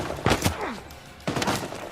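Video game gunfight in Uncharted 4, a few quick bursts of gunfire in two clusters under a second apart, moderately loud with rapid reports, brief and punchy.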